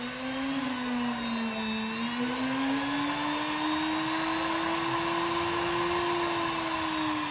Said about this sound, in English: So now it's starting to shine. That's a medium wheel, and now I put a fine wheel on that.